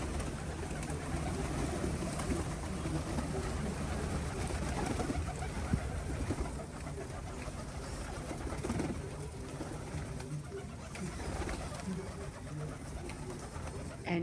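Pigeons feeding outdoors in Portugal, cooing softly and repeatedly at close range over a steady background hum, with faint voices now and then.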